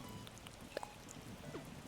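Torrential rain falls in Animal Crossing New Horizons, a soft, steady patter with a few scattered game chimes, faint and without talk.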